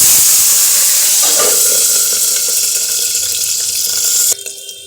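Green chillies sizzle and hiss in hot oil inside a covered pan, a loud steady frying crackle that cuts off abruptly near the end.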